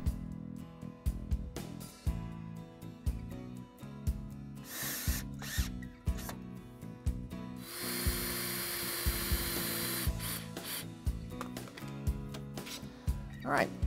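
A power drill drives screws into pine 2x4 joints on a potting table build. It gives short whirring bursts and then one longer, louder run of driving, with clatter from handling between them.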